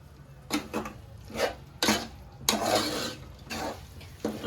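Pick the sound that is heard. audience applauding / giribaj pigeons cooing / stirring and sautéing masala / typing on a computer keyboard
stirring and sautéing masala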